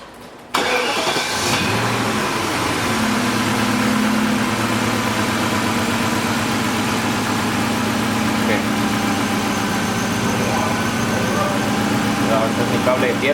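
A 1998 BMW 540i with a 4.4 liter engine cranks and fires up after a brief quiet moment, then settles into a steady, close idle that runs on evenly; faint voices are present.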